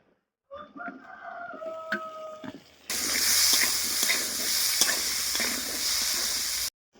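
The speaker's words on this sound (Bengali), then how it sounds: "টমেটো আলু ভাজা হয়ে গেছে" Tomatoes and potatoes frying in a pan for a fish curry, giving a steady sizzle that starts abruptly and runs for several seconds. Faint tonal chirps that may be a rooster come first, and there is no talk.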